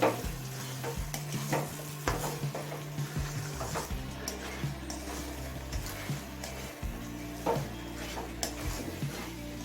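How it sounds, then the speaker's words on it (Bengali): Gobindobhog rice and lentils fry with spices in a pan over medium flame, a soft sizzle under repeated scraping stirs in an irregular rhythm, close and continuous, no talking. "চাল ডালটা মিডিয়াম ফ্লেমে ছ সাত মিনিট ভেজে নিয়েছি"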